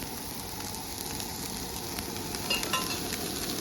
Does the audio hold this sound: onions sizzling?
yes